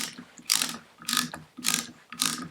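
Part being wound down and tightened on a Citroën 2CV engine, four evenly spaced bursts of rasping ratchet clicks about half a second apart, close and fairly loud with quiet gaps between.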